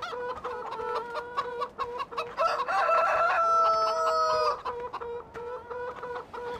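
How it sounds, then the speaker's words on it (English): Game rooster crowing and hens clucking on a farm in Farming Simulator 2013, a loud crow rising through the middle over steady repeated clucks, no talk. "I really got to go look through the sound files and delete that rooster noise. Even better, probably all the chicken noises as well."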